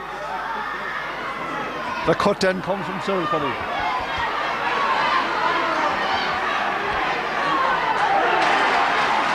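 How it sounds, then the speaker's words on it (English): A crowd of Camross supporters cheers at a Laois senior hurling final replay against Castletown, a broad roar swelling under a commentator's voice, with a few sharp knocks near the start. "the big cheer from the Camross crowd"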